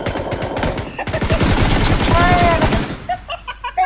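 Automatic rifle fire in PUBG, bursts of rapid shots rattling close and loud, with players talking over the shooting and a few separate pops near the end.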